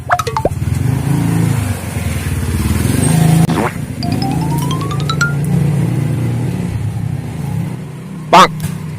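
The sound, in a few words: motorcycle passing by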